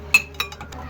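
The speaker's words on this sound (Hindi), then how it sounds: "सारी चीज़ों को हम चम्मच की मदद से मिक्स कर लेंगे।" A metal spoon mixes spices such as cumin and crushed coriander with other ingredients in a bowl, giving a few quick, bright clinks against the side, close up and alone.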